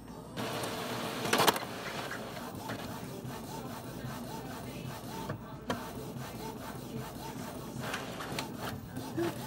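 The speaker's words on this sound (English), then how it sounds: "I'm just printing a test page" An Epson WF-2860 inkjet printer runs off a test page, giving a steady near mechanical whir and rub with a sharper clunk early on and a few brief clicks later, heard alone at moderate level.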